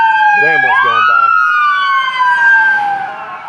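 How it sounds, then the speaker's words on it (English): A loud wailing ambulance siren sweeps up and down as the ambulance passes close by, fading slightly at the end. "there's an ambulance going by"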